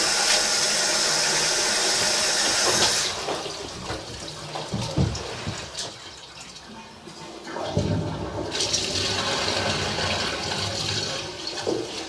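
A toilet flushing loudly for several seconds in a building with a drain line, a strong rushing surge that cuts off, then a quieter gurgle and refill with clanks and water running into the pipes.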